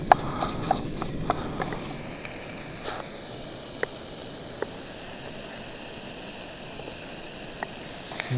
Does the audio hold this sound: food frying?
yes